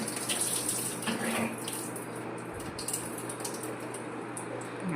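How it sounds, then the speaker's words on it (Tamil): Water pours steadily into a container to rinse health-mix ingredients, a close, continuous splashing rush like a running tap, with no talking. "கொஞ்சம் தண்ணி ஊற்றி இதை நல்லா கொஞ்சம் அலசிக்க போகிறோம்."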